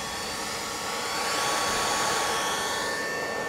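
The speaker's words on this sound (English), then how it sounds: "this is the sound you're hearing is coming from the PSU" A computer power supply fan in a Bitmain Antminer S7 setup whirs with a steady, airy whoosh, rising slightly in strength and then holding constant, with no voices.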